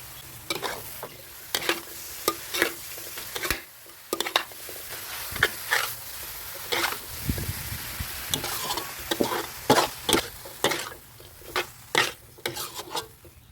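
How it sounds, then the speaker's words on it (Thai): Noodles and bean sprouts sizzle in a hot pan while a utensil scrapes and stirs in irregular strokes, close and busy throughout. "ผัดสักพักหนึ่งก็ใส่ถั่วงอกลงไปเลยครับ"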